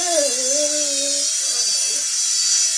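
A small remote control helicopter flying indoors gives a continuous high-pitched rotor and motor whine, close and steady, with a wavering tone early on that fades out.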